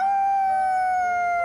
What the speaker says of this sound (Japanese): すごいな、遠吠えが。